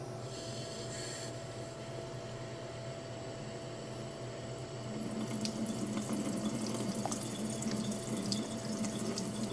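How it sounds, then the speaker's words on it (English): Steady rush of running tap water pressed against a faucet, growing fuller and louder halfway through as it fills a water filter, with a constant hum underneath. "we're going to press it up against our faucet and slowly let it fill."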